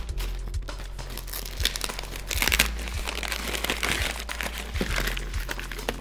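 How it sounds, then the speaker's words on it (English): Paper wrapping crinkles and tears as a brown box holding a Fuji 16mm lens is unwrapped, with close, irregular rustling, crumpling and a few sharp cracks, no voices. "So let's just open it up and see what's in that brown box."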